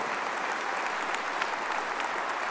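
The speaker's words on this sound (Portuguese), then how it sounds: "Vamos aplaudir com força a palavra de Deus, mas para valer mesmo" A church congregation applauds together, a dense, steady wash of many hands clapping at moderate volume without a break and with no voices on top.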